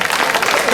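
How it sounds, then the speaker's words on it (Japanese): A brief, loud burst of applause from the audience at an evening hikiyama festival music concert in Kosinmachi, honoring the float pullers, a dense clatter of clapping lasting under a second. "引き子の皆さんに拍手。"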